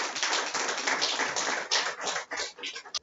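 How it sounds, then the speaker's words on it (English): An audience claps together at a freelancing seminar in Harare, Zimbabwe, a close, loud burst of many hands beating with uneven pulses that thin out toward the end. "let's clap your hands for Trish as she comes in"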